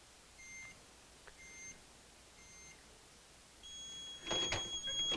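A heat press timer sounds while thermofilm is pressed at 330 degrees for ten seconds: a few faint, spaced electronic beeps, then a louder burst of tones near the end over quiet room hiss.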